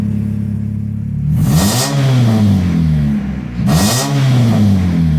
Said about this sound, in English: But a little more peppier on the throttle.